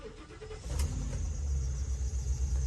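A 2021 Ford Econoline E-350 Super Duty box truck engine cranks and catches, settling into a steady, close idle rumble with no talk.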